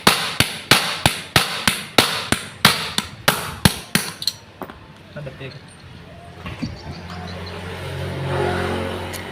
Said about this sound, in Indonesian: Kemudian kita balik dinamonya seperti ini. Nah, kita pukul.